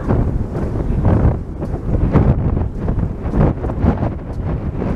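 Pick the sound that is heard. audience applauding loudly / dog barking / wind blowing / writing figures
wind blowing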